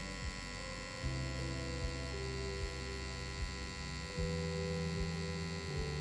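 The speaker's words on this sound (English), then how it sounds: "Very smooth, punchy machine." A tattoo machine, a FOLD 2 PRO, running while tattooing fake skin: a steady close electric buzz and hum throughout, with small shifts in pitch and a few soft bumps as the needle works, and no talk.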